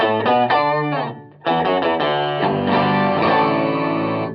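Electric guitar with an octave effect and overdrive, thick fuzzy chords with a deep sub tone, a brief pause, then a sustained loud riff.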